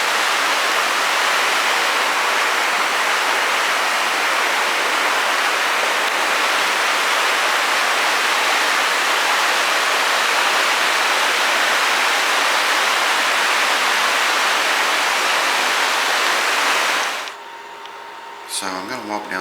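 Steady, loud rushing of a creek in Maggie Valley, North Carolina, fills the scene continuously, then drops away abruptly near the end.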